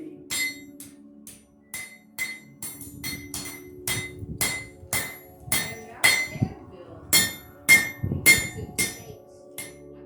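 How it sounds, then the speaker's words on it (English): Hammer blows ring on metal in a blacksmith shop, with irregular clanging strikes arriving in quick bursts over a low, steady hum. "you can almost hear the sounds of the blacksmith shop still resonating in the air"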